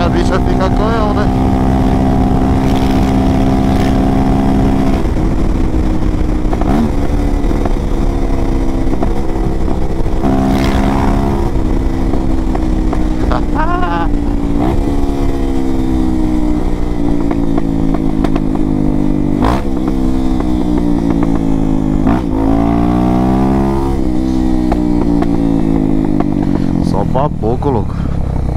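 Motorcycle fitted with a Dore exhaust and no filter, running close by with a loud harsh engine tone that rises and falls through repeated revs, with a few sharp pops between throttle blips.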